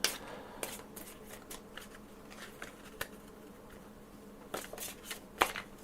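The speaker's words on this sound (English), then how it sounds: "Feels weird shuffling these cards." A deck of oracle cards is shuffled by hand, giving soft, quick riffling and flicking bursts in an irregular rhythm. The sound is quiet and close, with no voices.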